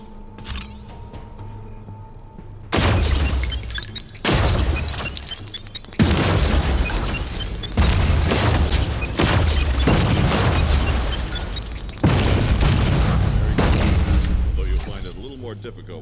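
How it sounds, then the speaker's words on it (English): Secondary weapon in the Defector video game firing in a series of heavy bursts, several loud blasts spaced a couple of seconds apart after a quiet opening, with game music and effects beneath. "Let's move on to secondary firing."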